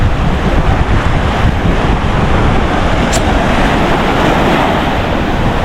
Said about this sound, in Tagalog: Ayun dagat nila dito